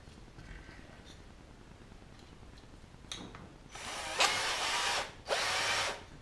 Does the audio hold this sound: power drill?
yes